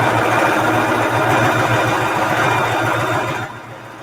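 A sewing machine runs steadily while stitching straight rows along old belts, a close, continuous whirring drone that eases off near the end.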